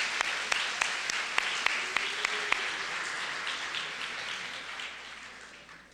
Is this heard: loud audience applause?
yes